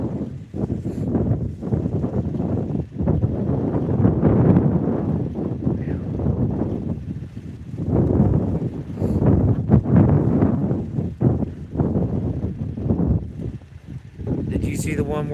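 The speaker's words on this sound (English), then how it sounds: "that wind is brutal" Harsh, cold wind roars across the microphone outdoors on a frozen day, loud gusty buffeting that rises and falls for the whole stretch with no clear talk over it.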